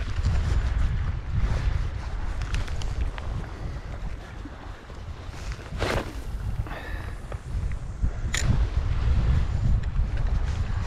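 Steady wind roars and buffets the microphone on a reef during a sea trout fishing trip. It is loud and continuous, with a few brief knocks and splashes and no talk.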